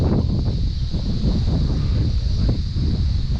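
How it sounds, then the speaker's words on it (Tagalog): Strong wind roars steadily and loudly across an open outdoor farm site where a trellis is being built, buffeting the microphone with constant low rumbling gusts and no speech. "lakas ng hangin oh"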